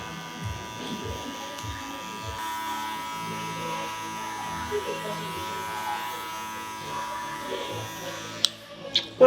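Electric hair clippers tapering the back of a man's neck on a zero setting, a steady close buzz running throughout with a voice talking over it and brief clicks near the end.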